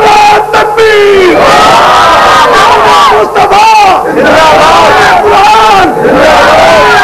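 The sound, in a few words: crowd chanting Islamic slogan Nara-e-Takbeer in response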